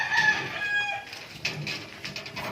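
A hen clucks and calls close by, a drawn-out squawking cry followed by shorter, choppy clucks.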